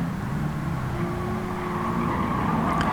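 A race car engine in Gran Turismo 7 drones steadily at a constant loud level, its pitch shifting slightly as the car works through a difficult section of a mission challenge.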